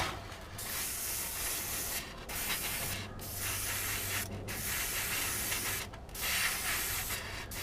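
Airbrush spraying paint onto a Saturn V diorama model, a steady broad hiss that runs near and loud through the whole stretch, cut by brief gaps where the trigger is released.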